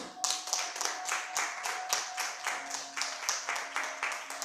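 A church congregation claps in a rhythmic beat, sharp, evenly spaced hand claps roughly three per second, with a steady held musical tone underneath.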